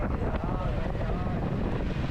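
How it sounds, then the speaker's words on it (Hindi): A motorcycle rides out toward a village in rural South Punjab, Pakistan, with heavy wind buffeting the microphone and a low engine rumble running continuously underneath. "तो अभी हम मोटरसाइकिल पर बैठ चुके हैं"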